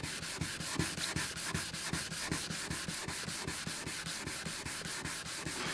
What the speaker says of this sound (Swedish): vi har slippat av lyktan en vända